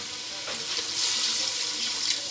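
Water pours and splashes steadily into a cooking pan of vegetables for pulao, a close hissing stream that swells slightly midway and continues without voices.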